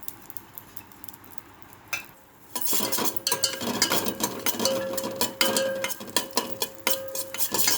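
A metal spoon repeatedly scrapes and clinks against a pan as vermicelli, almonds and cashews are fried on a low flame, with a faint sizzle underneath.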